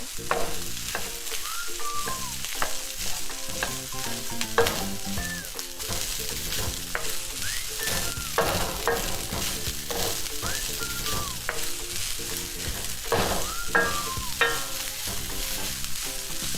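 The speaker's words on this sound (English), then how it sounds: "Now add in your rice. Start to stir." Rice and golden-browned onions fry in a pan, a dense continuous sizzle broken by repeated scraping strokes of a stirring utensil, close and fairly loud with no voices.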